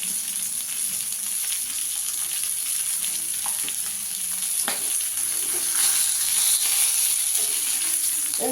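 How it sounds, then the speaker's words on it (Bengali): Pabda fish fry in hot oil in a pan, a steady close sizzle and crackle running throughout with occasional clinks and a slight swell near the end, no speech. "মাছগুলোকে একটু লাল করে ভেজে নেবো ভালো করে"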